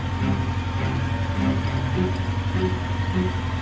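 A tractor engine runs with a rough, changed tone and heavy black smoke, a steady low drone with a faint uneven pulsing, continuous and fairly close.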